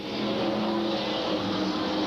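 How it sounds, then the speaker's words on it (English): Street stock race cars roar around the track at a 1993 event, a loud continuous engine drone with no break or voices over the roughly two-second stretch. "Once again, the caution is brought over this field of street stock machines."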